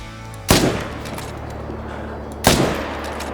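Two loud .300 rifle shots fired at moose in the hunting game Call of the Wild, about two seconds apart, each a sharp crack with a fading echo over quiet ambience.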